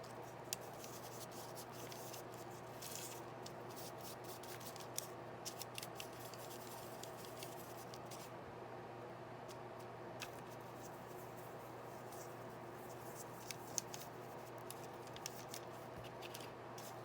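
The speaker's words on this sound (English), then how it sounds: "I'm going to start coloring the craft paper and white paper flowers" Coloring craft paper and white paper flowers for a Christmas craft, soft quiet scratching and rubbing strokes of a coloring tool on paper, faint and continuous, with light taps and a low steady background hum.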